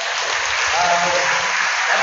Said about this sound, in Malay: Kita beri tepukan yang hebat kepada Datuk